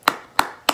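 Three sharp, single hand claps land in an even, quick rhythm, close and alone with no talk.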